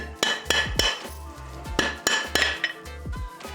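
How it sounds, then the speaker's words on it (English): Sharp metallic taps strike an aluminium rocker box on a Harley Davidson engine to knock it loose, coming in irregular pairs and short bursts at close range in an otherwise quiet workshop. "give it a little bit of a tap, and you'll see that you're just tapping it loose"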